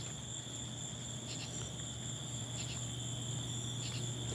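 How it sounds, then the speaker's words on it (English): Crickets chirp continuously in a steady high-pitched trill, with faint rhythmic pulses over a low background hum, fairly quiet and distant. "Can y'all hear the crickets?"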